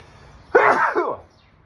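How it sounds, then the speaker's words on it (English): A single close sneeze erupts against faint background hum, loud and abrupt, trailing off quickly into quiet. "I'm gonna sneeze here."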